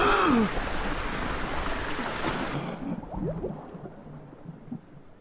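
Flowing stream water from the video game The Last Door, a steady broadband rush filling the opening seconds and then cutting off abruptly, leaving only faint low ambience with a few brief tonal blips.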